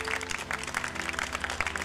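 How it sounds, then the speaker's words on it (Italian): Faint studio audience applause on the talent show The Coach 6, soft scattered clapping riding over steady background music for a short moment. "Questo applauso è per te."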